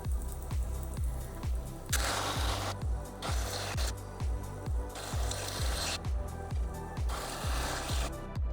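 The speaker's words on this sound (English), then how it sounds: "now it's getting a little tougher to grind" A sashimi knife being ground on a belt grinder at about 550 to 600 RPM: a loud, rough abrasive grind with a steady rhythmic thump from the belt, swelling in harsher bursts as the blade is pressed in.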